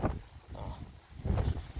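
Gusty wind buffeting the microphone outdoors, rising and falling in rough blasts, strongest at the start and toward the end.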